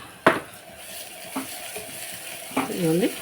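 Ginger garlic paste, made from equal parts ginger and garlic, frying in a pan with a steady soft sizzle, a few sharp scrape and stir clacks, and a brief warbling tone near the end.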